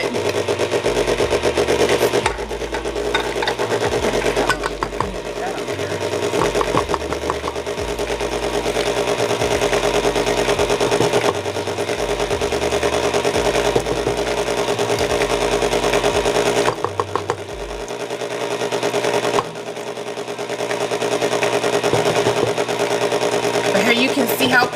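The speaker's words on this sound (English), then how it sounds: "The last time I used this mixer, I told you guys it's pretty loud when I'm trying to cook" Electric stand mixer whirring steadily while mixing a keto pumpkin cheesecake batter, a loud continuous motor hum with a few brief pauses and a stop near the end; a voice talks over it throughout.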